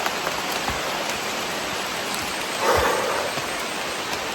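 Steady rain pours down beneath large trees, a dense, even hiss of drops on leaves and ground that stays close and constant, with a brief louder patch midway.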